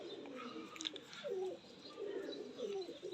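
Two male pigeons coo softly nearby, with low, throaty, rolling calls that repeat several times over quiet background noise.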